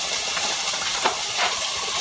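Steady sizzling hiss from diced onion hitting a hot skillet, a loud continuous fry with faint bumps of movement, no voices.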